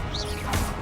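A short spell-casting effect in Hogwarts Legacy, a levitation charm: a quick rising magical whoosh with a brief crash-like burst near the end, close and fairly loud, with no talking.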